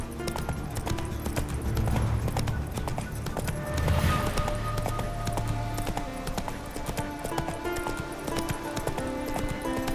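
Roach, a horse in The Witcher 3 video game, gallops with steady, rapid clip-clop hoofbeats throughout, loud and close, with a brief snort or whinny near the middle.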